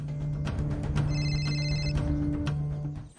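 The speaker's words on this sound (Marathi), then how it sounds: "एक मिनिट, मुग्धाचा फोन." A telephone rings with repeated electronic bell tones in short bursts, fairly close and clear against a quiet indoor room.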